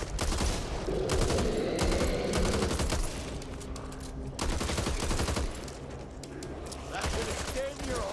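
Gunfire in the zombie shooter Back 4 Blood, dense bursts of rapid automatic shots running almost continuously, with a brief lull in the middle and mixed with game noise.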